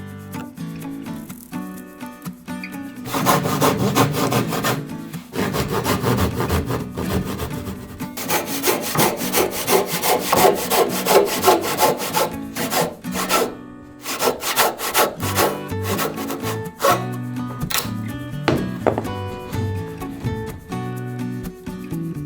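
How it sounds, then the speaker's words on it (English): Sandpaper rubs back and forth on the corner of a wooden stair rail, in close, steady scratchy strokes with brief pauses between bursts. "Sandpaper is an excellent tool for this."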